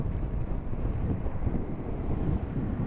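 Strong outdoor wind buffets the microphone during an e-bike ride, a steady, loud low rumble that fills the whole stretch with no talking.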